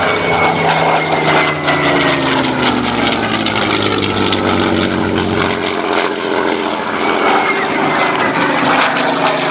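A Messerschmitt G model propeller fighter aircraft flies over at an air show, a loud, steady engine drone with a rising and falling pitch that stays close throughout.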